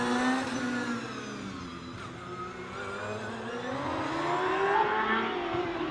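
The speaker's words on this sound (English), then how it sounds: "this Predator, with just the 2-litre 4-cylinder in it. Tim Elmer's away from the start line." A Predator hillclimb car with a 2-litre 4-cylinder engine pulls away from the start line on a hill course, its engine note rising steadily and growing louder over about six seconds, with no talking.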